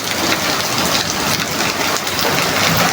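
Steady, dense rain falling on a Friday afternoon, a close, continuous hiss of drops on surfaces with no voices.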